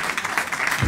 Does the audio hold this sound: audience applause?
yes